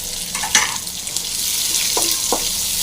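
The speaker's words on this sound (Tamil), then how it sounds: "நல்லா வெங்காயம் ஃப்ரை ஆகட்டும்." Steady close-up sizzling of chopped onions frying in hot oil for murungai keerai poriyal, a broad hiss with a few brief pops and stirring scrapes.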